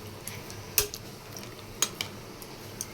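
Spoon stirring chicken curry in a pot after half a cup of liquid cow's milk goes in, giving a few sharp clinks against the metal rim over a quiet background.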